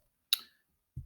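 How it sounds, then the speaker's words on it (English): Calculator keys are pressed while values are entered, giving one sharp, bright click and then a duller tap about half a second later, close and isolated in silence. "but basically I'm typing the y values in now"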